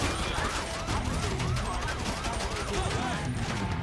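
Dense, continuous gunfire from the GTA 5 video game rattles throughout, loud and unbroken, with a voice talking over the shooting.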